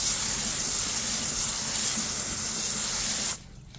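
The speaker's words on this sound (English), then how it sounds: "I'm gonna give it a quick rinse and see how much it took off." Water spraying steadily onto a flat 2nd-gen 4Runner wheel during a quick rinse, a broad continuous hiss that runs close and even, then cuts off abruptly near the end.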